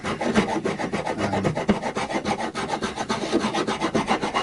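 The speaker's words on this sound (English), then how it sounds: "it's quite nice for smoothing down the file marks you've already done" A metal file rasps back and forth along the wooden neck of an Indian Encore AristoCat Strat guitar, smoothing earlier file marks in a run of quick, even, close-up scraping strokes with no voices.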